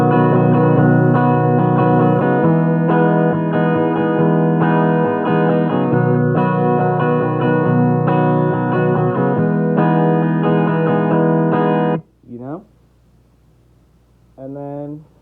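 Electric guitar chords strummed with heavy effects and reverb, ringing steadily, then cutting off into a couple of short sliding, warbling tones.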